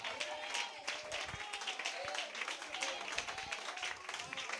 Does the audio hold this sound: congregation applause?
yes